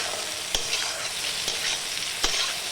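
Potato, green papaya and yardlong beans fry lightly in a pan with a steady sizzle, while a spatula scrapes through them in three sharp, evenly spaced strokes.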